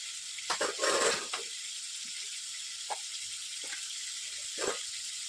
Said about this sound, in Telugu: ఇంకా ఇవైతే బాగా వేగాలన్నమాట ఆయిల్లో